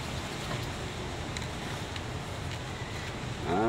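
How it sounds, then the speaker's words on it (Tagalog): Strong wind blows outdoors on a fishing outing, producing a steady low rumble of wind buffeting the microphone with faint rustling, slightly louder at the end. "Lakas yung hangin."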